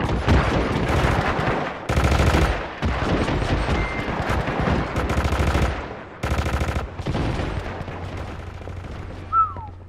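Rapid automatic gunfire from a gun in the video game Hitman Absolution rattles out in loud bursts separated by short pauses. It stops near the end, leaving a low hum and a brief whistle-like tone.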